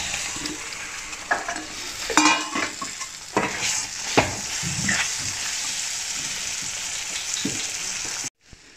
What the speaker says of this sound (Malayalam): അതിനുശേഷം നമ്മളിപ്പോൾ അതിനകത്തോട്ട് നാരങ്ങ ഇട്ട് കൊടുക്കുകയാണ്.